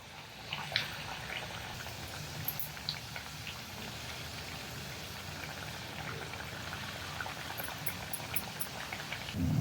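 Sesame-coated banana and jaggery puris fry in oil over a medium flame, giving a steady, even crackling sizzle with faint pops throughout, ending in a slightly louder rustle.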